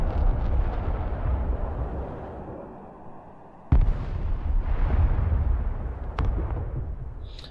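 Mobile artillery firing in the war strategy video game Broken Arrow, a dense rumbling barrage with a sharp loud blast partway through and another crack later, heavy low booms rolling throughout.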